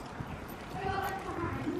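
Horse hooves clip-clop faintly during a jumping ride, with people talking over the quiet, uneven footfalls.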